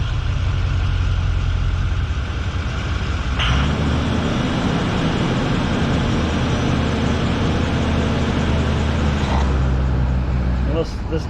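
A Ford E450 dually's engine on a fast idle system runs at a steady, loud, close idle for the whole stretch, with a slight shift in tone partway through and a brief drop near the end.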